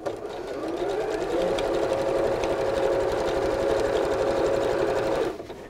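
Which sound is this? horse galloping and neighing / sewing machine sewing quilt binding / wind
sewing machine sewing quilt binding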